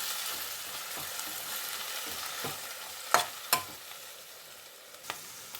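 Onions, green chillies and curry leaves stirred in a hot pan, with a steady sizzle and several spoon scrapes, two of them sharp and distinct, before the frying settles quieter.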